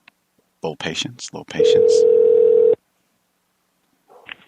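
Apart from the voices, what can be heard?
telephone ringing and dialing while reconnecting a call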